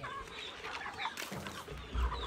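Rhode Island chickens cluck nearby on a farm, with short overlapping clucks and some background rustling.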